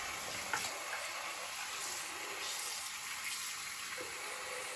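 Tap water runs steadily into a basin for soaking stained baseball pants, a continuous soft hiss and splash with no talk.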